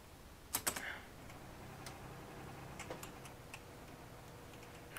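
Keys clatter on a computer keyboard during a Farming Simulator 17 session: a quick cluster of sharp clicks near the start, then sparse single taps spread across a quiet background.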